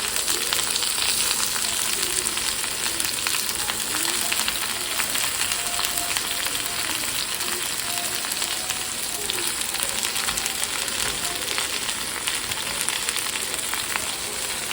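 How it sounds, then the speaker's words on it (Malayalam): Chopped ingredients sauté in a pan over a lowered flame for a home-cooked Kerala lunch, giving a steady, crackling sizzle with light stirring scrapes, close and continuous. "ഓക്കെ, നമുക്കിനിയൊരു ഇങ്ങനെ വഴറ്റി കൊടുക്കാം"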